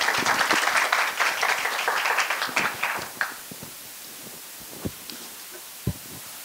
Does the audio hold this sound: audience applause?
yes